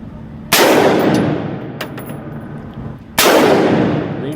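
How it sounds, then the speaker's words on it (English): Two loud, close gunshots at an outdoor shooting range, each a sharp crack with a long ringing decay, roughly two and a half seconds apart. "Keep shooting then."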